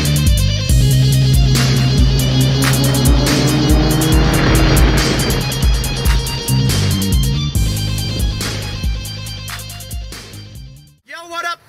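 Car engine revs hard and tires squeal in a polished, advertisement-style sequence, loud and sustained with pitch sweeps, layered over a rhythmic music bed before cutting out near the end.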